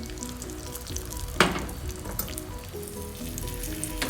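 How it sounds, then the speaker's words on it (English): Cashew nuts frying in ghee for ash gourd halwa, a close, steady sizzle with a brief louder crackle and scrape near the middle. "once you pour in the ghee, you don't wait for a lot of time because when you introduce the cashew nuts, it will go black"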